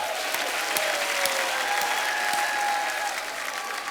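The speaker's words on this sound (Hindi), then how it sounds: "जोरदार तालियां हो जाएं" A studio audience at The Kapil Sharma Show, a comedy show, breaks into loud, sustained applause, a dense wash of clapping that stays steady throughout.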